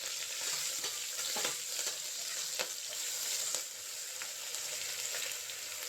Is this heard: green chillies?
yes